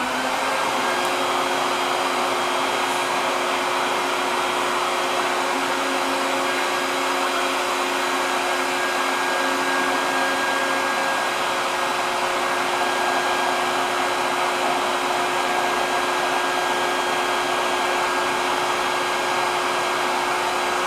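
A shop vac hooked to a coffee roasting cooler runs nonstop with a loud, steady whine and airy roar, unchanging in pitch and level from start to finish.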